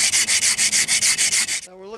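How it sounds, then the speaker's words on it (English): Sandpaper rubbed back and forth over limestone in about twelve quick, even strokes, close and crisp, followed by a short moment of a voice. "Just get ourselves a piece of sandpaper, go over the top of it like this. That'll smooth that all out."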